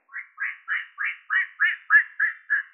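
A human voice imitates a duck, giving nine evenly spaced nasal quacks in a steady rhythm, close and clear on an old 1920 recording with no background.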